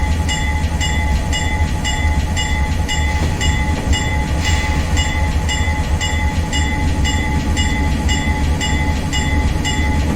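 A double stack freight train from Train Simulator 2022 on the Arizona Divide rolls steadily and loudly, with a deep rumble and regular clickety-clack wheel beats repeating along the rails.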